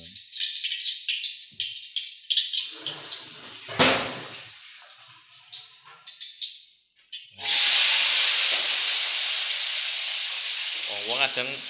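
Spices frying in hot oil in a home kitchen for a vegetable dish, a loud, steady sizzling hiss that bursts in and holds strong, with quieter clatter and voices beforehand.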